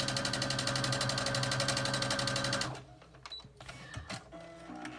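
A sewing machine stitching quilt fabric strips, a fast even rattling run of stitches for under three seconds, followed by quieter handling clicks and taps.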